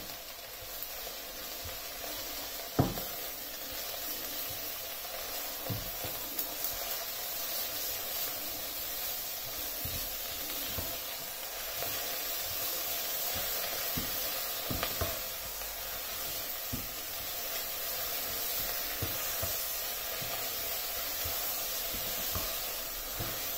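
Spinach sautéing with onions and garlic in a pan, a steady soft sizzle and hiss running throughout with occasional small pops and clicks.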